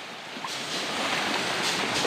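Steady broadband rush of fast-flowing water, loud and continuous throughout, with a faint gusty edge of wind on the microphone and no talking.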